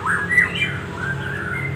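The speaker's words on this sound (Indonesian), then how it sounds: "burung ini udah gacor tapi belum bisa on" An oriental magpie-robin (kacer) sings brief whistled phrases, fairly close and moderately loud, over a steady low background hum.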